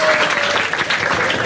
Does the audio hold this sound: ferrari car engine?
no